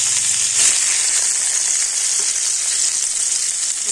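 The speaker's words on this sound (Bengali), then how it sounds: "পটলগুলো কিন্তু খুব সুন্দর লাল করে ভেজে নিয়েছি" Pointed gourd (potol) slices frying in hot oil, giving a steady, close, bright sizzle throughout with no talking.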